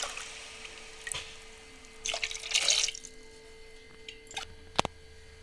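Water is poured from a glass into a cooking pot of ordinary rice for bagara rice, two measures per glass of rice, in a few separate splashy bursts with quiet gaps and a small clink between them.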